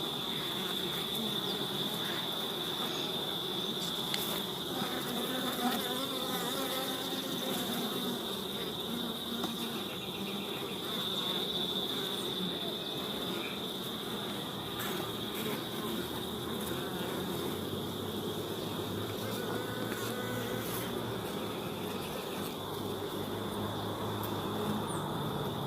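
Dense bee buzzing around hives during a small swarm check in Jamaica, a constant close hum that carries through the whole stretch, with individual bees droning past the microphone now and then.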